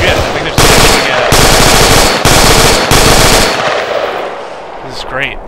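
Loud close-range machine-gun bursts from a military video game, four long rapid-fire volleys in quick succession, then fading, with brief talk near the end.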